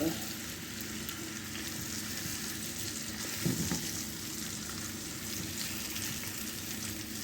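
Apple slices frying in hot oil, a steady dense crackling sizzle heard close and continuous, with a brief bump of handling midway and no talk.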